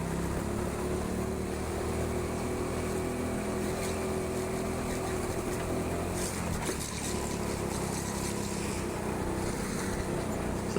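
A go-kart engine at the TeamSport Sheffield indoor track drones steadily through a lap in hot weather, a constant buzzing hum with brief rushes of noise as the kart moves.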